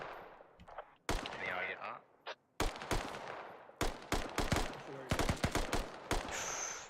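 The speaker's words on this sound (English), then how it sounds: "Art sees Uzuma, takes a shot." Gunfire in a video game, a sharp shot followed by bursts of rapid automatic fire and scattered single shots, loud and close, with someone talking between the volleys.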